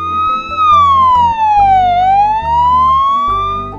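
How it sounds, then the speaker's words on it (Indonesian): An ambulance siren wailing loud and close, a single long tone sweeping down then back up over a pulsing low horn pattern, with no talk. "mobil ini memiliki lampu sirine yang bisa menyala mengeluarkan suara"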